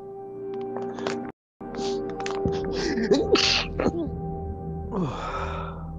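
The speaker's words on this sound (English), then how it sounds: "there was no stopping that sneeze" A single sharp sneeze from a player during a session of the space survival game Hellion, sitting among mumbled voice sounds and breathy noises, close to the microphone.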